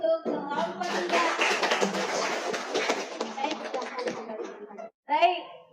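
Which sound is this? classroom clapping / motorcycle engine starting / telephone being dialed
classroom clapping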